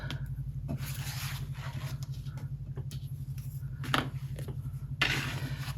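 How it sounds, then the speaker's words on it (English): A slice tool is drawn along a small ruler to cut paper, giving a few brisk scraping strokes over a constant low electrical hum. "We'll use this little ruler and a slice tool to get a really clean cut on that"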